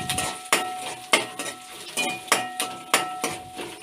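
Curry leaves frying crisp in a hot pan for drumstick gravy, with repeated spoon clacks and scrapes on the metal at an uneven rhythm over a steady background sizzle, close by and with no talking.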